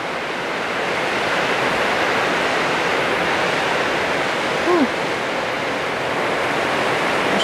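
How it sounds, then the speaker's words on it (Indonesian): Heavy rain driven by strong wind, a dense, loud, unbroken roar of downpour with a brief voice-like sound partway through. "hujan angin"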